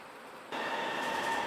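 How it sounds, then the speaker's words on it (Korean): Korean Wirye Line tram pulling away from Bokjeong Station, a steady rolling rumble with a faint tonal whine that swells after a short quieter lead-in, close and continuous. "복정역에서 회차를 마친 유래선 7, 8편성이 차례로 복정역을 떠납니다."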